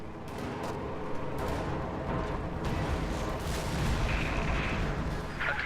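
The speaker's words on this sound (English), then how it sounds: "Somebody dropped the white phosphorus in there again" A white phosphorus artillery strike in the World War II strategy game Company of Heroes 2, a continuous rumbling barrage of booms and bursts, dense and loud throughout without speech.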